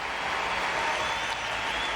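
Steady applause from a large arena crowd after a gymnastics routine at the 2003 World Gymnastics Championships apparatus finals, a dense continuous wash of clapping with faint crowd noise, no talk.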